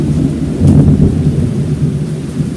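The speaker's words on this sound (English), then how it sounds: "That's a lot of thunder." Heavy thunder rumbling through an August afternoon storm, a deep, loud, continuous roll layered over steady falling rain, with no voices.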